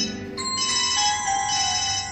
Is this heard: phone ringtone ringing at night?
yes